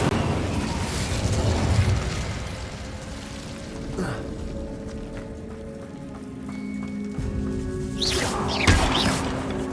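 Incendio fire spell bursting in Hogwarts Legacy: roaring flame blasts near the start and around eight to nine seconds, with crackling and rumble between them, moderately loud and with no talking.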